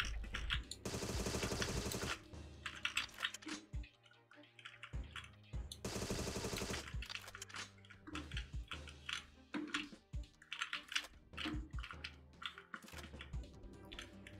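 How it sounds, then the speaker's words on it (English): Two sharp bursts of rapid automatic machine-gun fire from the video game Agent 64: Spies Never Die, fairly quiet, separated by scattered clicks and small game sounds. "with this machine gun, kind of relying on that auto aim a little bit"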